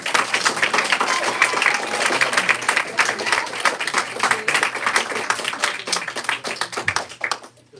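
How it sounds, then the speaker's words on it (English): An audience at a city council meeting claps steadily for several seconds, a dense patter of many hands that fades out near the end, with faint talk underneath. "I think they deserve another round of applause."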